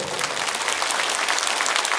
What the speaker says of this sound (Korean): 우리 설 때 박수로 맞아주시고